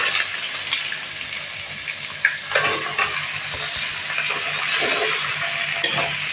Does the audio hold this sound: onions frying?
yes